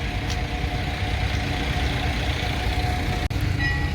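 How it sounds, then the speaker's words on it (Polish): Low, steady rumble of a departing boat's engine near a Portuguese beach, idling continuously at close range with one brief dropout near the end. "właśnie zauważyłem, że odpływa mi moja łódka, którą miałem płynąć"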